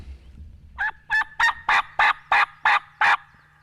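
A wild Osceola turkey gobbles on public land, a quick series of about eight loud, rattling calls in an even rhythm, heard clearly with little else around.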